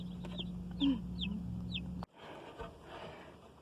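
Black Australorp chicks cheep and cluck in a handful of short, high chirps over a low steady hum, fairly faint and close, before a sudden shift to quieter shuffling.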